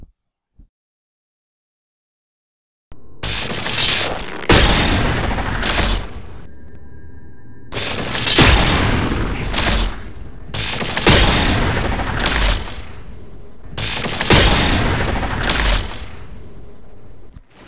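Gunfire in Halo 4 comes in several loud bursts of rapid shots, each a couple of seconds long, separated by short pauses with faint reload clicks, heard alone with no talking.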